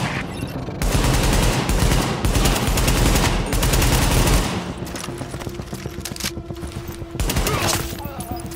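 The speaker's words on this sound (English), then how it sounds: "Reporting gunfire in the station above us." Sustained rapid gunfire in bursts in The Division video game at Grand Central Station, loud and close, with explosive cracks and a busy battle din throughout.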